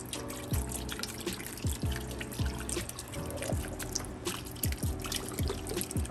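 Beef broth pours into a crockpot with a steady trickle, broken by a run of distinct drips and splashes at close range. No talking.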